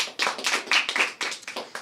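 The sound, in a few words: audience clapping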